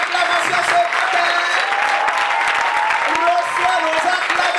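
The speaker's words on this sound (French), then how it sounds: "Reçois nos acclamations." Sustained, dense applause from a worship congregation at a youth conference in Ziniaré fills the space, loud and steady, with voices and tonal sounds carrying over the clapping.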